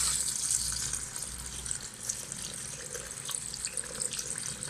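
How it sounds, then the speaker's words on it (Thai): Thin coconut milk poured into a pot of Thai green chicken curry, making a steady, continuous liquid pour at moderate volume with no talking. "แล้วก็เอาหางกะทิมาใส่ให้หมดเลย"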